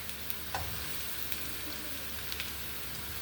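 Onions sizzle in a pan for chicken fried rice while being stirred, a soft steady frying hiss with occasional spoon scrapes and taps, fairly quiet and without talk.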